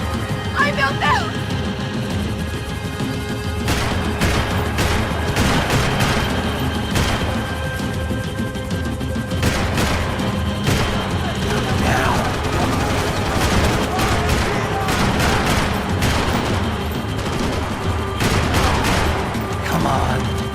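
Gunfire in a tense action chase, rapid sharp bursts of shots cracking repeatedly over loud background commotion, with people shouting around them.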